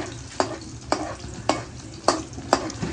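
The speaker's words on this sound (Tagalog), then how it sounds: "magigisa na tayo ng ating sibuyas bawang" Onion and garlic sautéing in a pan for picadillo, stirred in five sharp scraping strokes at a steady rhythm over a low, continuous sizzle, close and fairly quiet.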